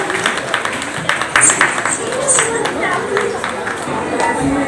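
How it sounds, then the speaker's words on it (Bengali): Audience applause and crowd noise in a school or college stage event hall, steady clapping mixed with a murmur of voices and chatter throughout. "ঋষিতা নাথের জন্য একটা জোরে হাততালি।"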